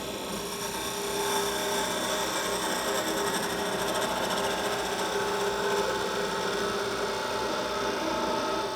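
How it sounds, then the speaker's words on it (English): A wood lathe hums with a steady whir while a parting tool makes a continuous scraping cut into the wood underneath, close and even throughout, no voices. "make a parting cut at the base, again to about 5/8 of an inch in diameter"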